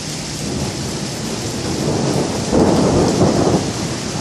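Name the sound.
thunderstorm with thunder and rain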